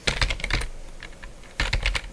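Typing on a computer keyboard while entering network switch commands, two quick bursts of close, crisp key clicks separated by a brief pause, no speech.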